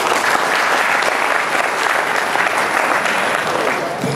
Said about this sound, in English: let us first give ourselves our warm round of applause